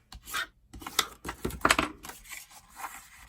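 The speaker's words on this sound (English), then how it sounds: "let's go ahead and burnish these" Glued paper triangle boxes are burnished by hand, giving close, quiet bursts of rubbing and scraping in short irregular strokes, with brief pauses between them.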